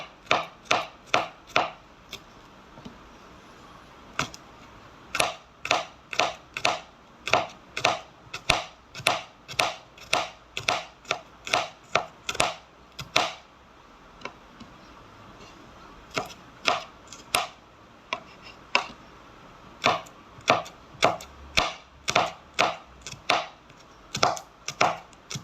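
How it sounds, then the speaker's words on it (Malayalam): A knife chopping food finely on a board, a long run of sharp, rapid evenly spaced knocks in bursts with brief pauses, close and clear with no voices. "ചെറുതായിട്ട് നമ്മൾ അരിഞ്ഞ് സെറ്റ് ചെയ്യണം"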